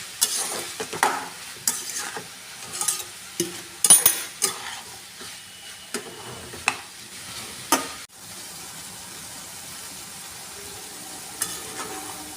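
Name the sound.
stir-frying cucumber and prawns with salt in a pan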